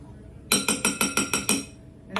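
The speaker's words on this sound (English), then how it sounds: "Okay, give that a good stir up." A spoon stirs dates into boiling water in a bowl, knocking against the side in six bright, evenly spaced clinks, then a seventh starts after a short pause, with no talking.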